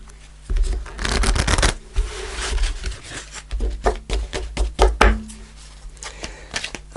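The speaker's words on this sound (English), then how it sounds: "I'm just going to pull a fairy card to finish off the reading" A deck of fairy oracle cards is shuffled by hand, with quick riffling bursts, soft slaps and taps as cards are pulled, close up and clear, with no voices.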